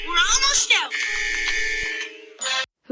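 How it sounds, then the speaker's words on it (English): A cartoon school fire alarm at the Elwood City preschool rings as a steady electronic buzz through most of the clip, with children's voices talking over it at the start and again near the end. "pulled the Elwood City preschool fire alarm"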